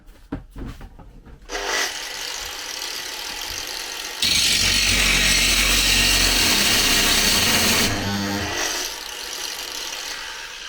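Bosch GWS 17-125 angle grinder on its first speed setting, a few clicks and knocks before the motor spins up to a steady whine, which grows louder and harsher in the middle and then settles back.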